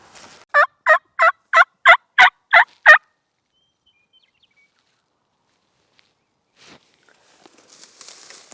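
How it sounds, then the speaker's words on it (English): A wild turkey gobbling out on Nebraska hills: a single burst of eight quick, loud, rattling pulses close by, then near silence with faint rustling. "we already have one gobbling just out of the truck"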